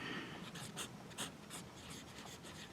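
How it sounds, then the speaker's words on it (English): A Hero 395 fountain pen with a steel nib scratches across a Rhodia dot pad in a quiet room, a steady run of soft strokes with short rhythmic bursts over faint background hiss. "Let's bring over our Rhodia dot pad and let's write with the"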